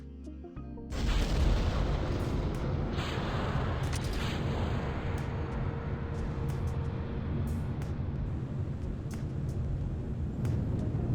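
A rocket launch in Kerbal Space Program ignites abruptly with a deep booming roar that holds loud and steady, broad engine rumble with scattered crackles running to the end.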